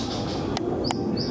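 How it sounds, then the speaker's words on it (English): Fairy thrush calling close by, two short bright whistled notes with brief sharp sweeps, clear over a low steady outdoor background. "The fairy thrush."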